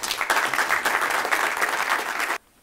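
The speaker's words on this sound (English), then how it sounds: "Round of applause" Applause from a lecture audience at an annual enterprise lecture, a dense steady wash of many hands clapping for over two seconds before cutting off abruptly into near silence.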